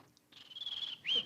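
A man imitates bird calls with his voice, giving a thin whistled chirp that holds steady for most of a second, then a brief higher upward whistle, fairly quiet with no other talk.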